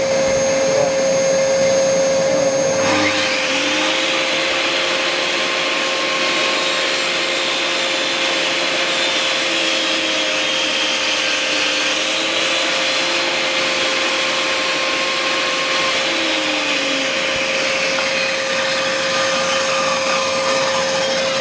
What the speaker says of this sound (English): I'll turn on the hoover.